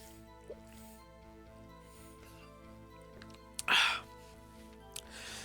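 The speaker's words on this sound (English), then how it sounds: "Take a sip of water." A streamer drinks from a cup of water close to the mic, one brief wet slurp and gulp rising above faint game music, with small clicks before and after.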